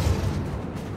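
A grenade goes off in the Star Wars Battlefront II game: one short, heavy boom with a deep rumbling tail that lasts under a second, close and fairly loud.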